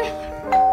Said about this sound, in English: Why am I ringing the doorbell?